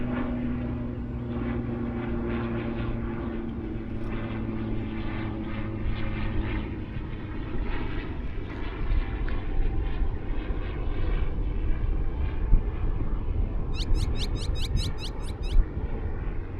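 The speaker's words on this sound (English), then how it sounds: "Airplane going over." A propeller airplane drones overhead above Lake Elsinore, a low, steady engine hum that rises gradually, with faint bird chirps near the end and no talking.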